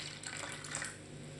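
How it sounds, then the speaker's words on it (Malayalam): Half a cup of lukewarm water poured into a bowl holding yeast and a teaspoon of sugar for khameer bread dough, a soft steady trickle and splash heard up close and fairly faint throughout. "ഇനി നമുക്കിതിലേക്ക് ഒരു 1/2 കപ്പ് ഇളം ചൂടുള്ള വെള്ളം ഒഴിച്ചു കൊടുക്കാം"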